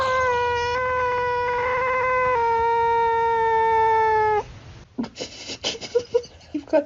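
A kitten meows in long, loud, sustained cries close by, then stops as several people talk and laugh.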